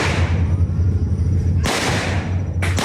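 Gunfire in a pre-dawn armed clash between drug enforcement agents, Philippine Marines and a syndicate in Tawi-Tawi, with two sharp, loud shot bursts standing out over a constant low rumble and hum.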